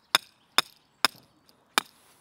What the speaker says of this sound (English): So I'm going to put my first stake in here at 75 centimeters and then hammer that down.